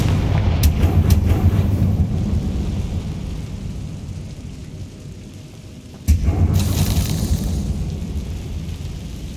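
Spell blasts from Bombarda and Confringo in Hogwarts Legacy: two loud rumbling explosions, one at the start and another about six seconds in, each followed by a long thunder-like rolling decay, no voices.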